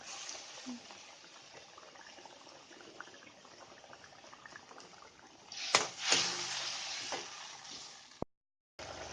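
Heated water poured into a cooking pot of potatoes and fish on a lowered gas flame: a soft bubbling simmer swells into a louder splashing pour partway through, then cuts off abruptly.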